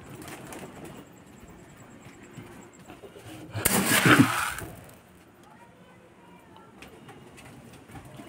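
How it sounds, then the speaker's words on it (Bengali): Pigeons coo softly nearby in a low, steady murmur, broken midway by a loud, brief burst of fluttering wings. "এ দেখো এখানে সব পায়রা আছে।"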